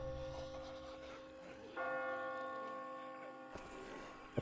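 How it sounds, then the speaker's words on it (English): Church-like bells ring in The Walking Dead video game, sustained tolling tones that swell and layer at mid-volume, with a fresh strike near the end over a steady ambient hum. "I just got spooked by those bells"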